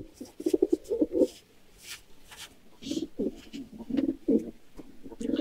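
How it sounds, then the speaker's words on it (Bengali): Pigeons in a rooftop pigeon house coo at feeding time, close and clear, in repeated throaty bursts with short quiet gaps between them. "দেখেন কবুতর অলরেডি খাবার খাওয়ার জন্য লাফালাফি করতেছে।"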